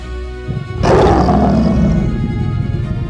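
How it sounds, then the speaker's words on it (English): A lion's mighty roar as a sound effect: a low rumble builds into a loud, sustained, throaty roar lasting a couple of seconds, heard alone without any speech. "The lion defeated the spider with a mighty roar."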